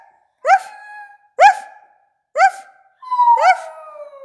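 A pet dog howls in imitation of its owner, four separate rising howls with clear harmonic tones, close and loud, with a brief human-like wail leading into the last one.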